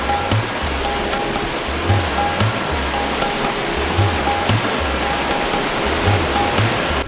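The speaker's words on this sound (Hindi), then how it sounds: "कैसे इस डेजर्ट में इस झरने का बहता पानी अपनी ही धुन में मस्त" A waterfall in the cold Himalayan desert pours water in a steady, loud, even rush that never lets up, with soft repeating musical notes faintly underneath.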